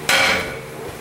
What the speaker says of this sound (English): You might have to give the rotor a little bit of loving with a hammer to make it come off